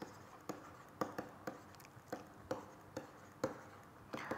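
Chalk or marker writing out an equation on a board, with short tapping strokes arriving every half second or so, moderately close and quiet with no talking.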